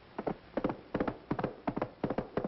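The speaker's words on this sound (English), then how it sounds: "That's the gallop of the horse" Hooves pound in a quick, repeating three-beat gallop rhythm, crisp and close, with nothing else over them.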